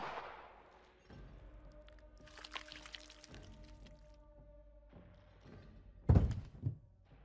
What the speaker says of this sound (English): before you shrugged and just pulled the trigger.